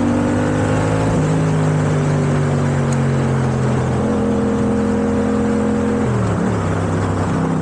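Yamaha MT-07 motorcycle, a first-generation model on a modified stock exhaust, holds a loud steady idle-to-rev drone with shifting engine pitch, dipping and rising around six seconds, running continuously without talk.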